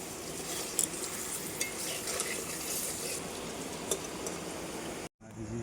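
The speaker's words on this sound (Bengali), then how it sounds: "আলু ভাজা হয়ে গেল" Potatoes frying in oil in a wok give a steady, even sizzle with a few light clinks, running unbroken and close before a short drop into silence near the end.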